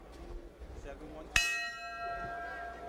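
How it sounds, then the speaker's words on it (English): A boxing ring bell clangs once, sharp and loud, to open round 2 of a professional bout, its metallic ring sustaining and slowly fading over low arena background noise. "Bell sounds to bring the battlers into the center of the ring for round 2."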